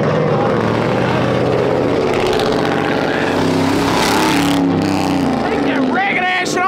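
A Subaru and a Chevy rev and roar at a street takeover, loud engine drone with rising pitch sweeps as they launch, under crowd noise and people talking.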